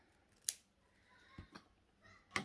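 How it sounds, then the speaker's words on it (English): Scissors snip through sewing fabric for a backpack, cutting at a 45-degree angle: a few crisp, separate cuts, close and quiet, with no voices. "so I'm going to trim this one about 1 inch back, so they'll overlap about 1 inch, and we'll cut these at a 45-degree angle"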